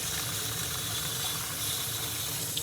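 Water running steadily from an indoor tap while watering a potted plant, a soft, constant splashing stream heard close, with no talk.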